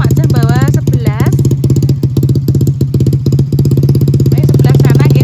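A motorcycle engine chugs loud and close with a steady, even rhythm that holds throughout. People talk over it.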